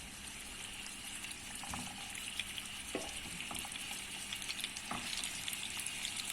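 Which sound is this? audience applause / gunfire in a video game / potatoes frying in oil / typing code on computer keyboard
potatoes frying in oil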